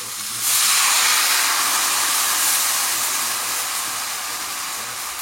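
Red wine and water hit a hot pan with floured veal kidney, bursting into a loud, steady hissing sizzle that holds strong for several seconds and fades only slightly.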